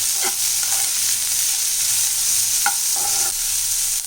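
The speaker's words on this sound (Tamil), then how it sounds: "கருவேப்பிலை பச்சை மிளகாய் போட்டு நல்லா இதை வதக்கிடலாம்" Curry leaves and green chilies sizzle steadily in hot oil while a spoon scrapes and stirs the pan a few times, close and fairly loud.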